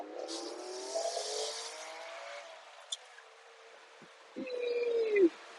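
A 2003 BMW E46 M3 convertible's engine climbs in pitch as it revs to about 7,000 RPM, loud and close, then drops off briefly before a second short rising rev bursts in near the end.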